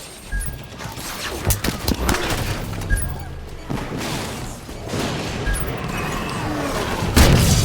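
Explosions and crashing impacts as the last cannon is destroyed in the Halo 5 video game, dense bursts of booms and smashes layered over continuous battle noise, with a louder blast near the end.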